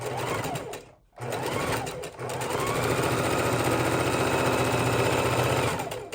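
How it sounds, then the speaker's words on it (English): A sewing machine stitching straight across a pinwheel quilt block, its rapid even chatter running in two bursts split by a short pause near the start, then continuing steadily until the end. "pop it under the sewing machine, sew straight across, turn it around, point to point"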